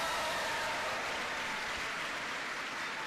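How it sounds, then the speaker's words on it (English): Steady, dense applause from a crowd at a political gathering welcoming the next Lieutenant Governor of Georgia, sustained and even throughout with no voices above it. "how about a round of applause"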